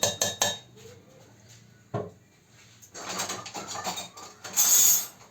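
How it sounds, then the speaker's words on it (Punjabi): Cooked dal and spinach are mashed in a metal pot, heard as clanks and knocks followed by bursts of scraping and sloshing clatter. "ਇਹਨੂੰ ਆਪਾਂ ਹੁਣ ਘੋਟਾ ਲਾਵਾਂਗੇ"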